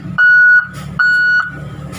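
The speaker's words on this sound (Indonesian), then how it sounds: "ngecek back alarm" Two long electronic beeps from a heavy mining machine's reversing alarm, evenly spaced and loud, each holding a steady high tone, over quiet engine hum.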